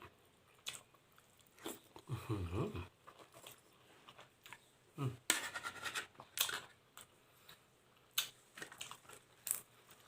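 Someone bites into and chews fruit close to the mic, crunchy bites in bursts with wet chewing between them and quiet pauses.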